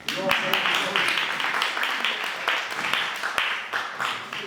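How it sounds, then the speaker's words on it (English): Audience applause at a theatre talk after a Yugoslav Drama Theatre play, sustained dense clapping filling the whole stretch with a few sharper peaks, fairly close and steady. "Enormous applause."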